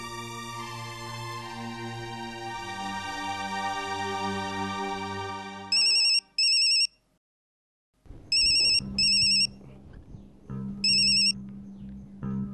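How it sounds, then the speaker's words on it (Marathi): A telephone ringtone plays a melodic tune, then breaks into short repeated electronic ring bursts separated by pauses, loud and clear with no talk. "गण्या, फोन कशाला केलास?"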